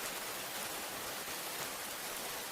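Steady rain falls at night around a hut, a dense, even hiss of drops held at a soft, constant level with no voices.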